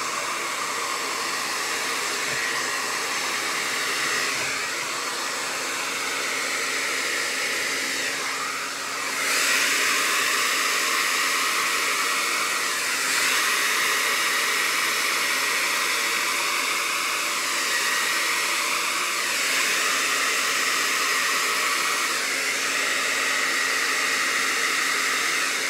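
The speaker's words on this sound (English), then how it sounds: "Get our hair dryer." A hair dryer blows over a resin pour with a loud, steady broadband whoosh, its pitch wavering slightly as it is moved about, running continuously with no talking.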